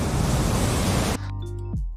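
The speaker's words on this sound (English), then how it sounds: "we took some existing water sounds" A water sound effect for an underwater manta ray shot: a loud, steady rushing wash of water for about a second that cuts off abruptly into a quieter low tonal hum.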